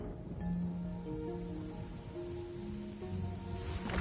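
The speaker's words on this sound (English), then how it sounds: "He's making it rain again." Steady, moderate rain falling in the video game Rain Code Plus, heard under sustained musical tones from the game soundtrack, with no speech.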